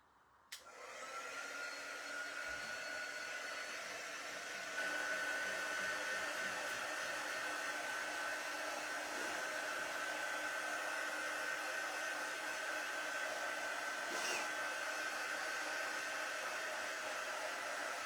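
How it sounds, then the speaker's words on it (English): A hair dryer runs continuously to dry a craft piece made from a Dollar Tree candy corn shape, blowing a constant close whir with a steady tone that changes slightly partway through and no talking. "Let's try a different dryer. Maybe one that's not quite so hot."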